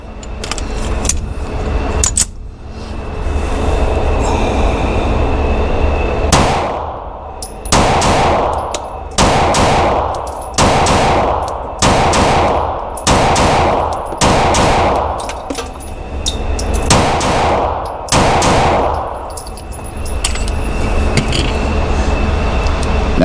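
Rost Martin RM1C pistol firing slow double taps outdoors, loud sharp shots in evenly spaced pairs with short pauses between pairs, close up.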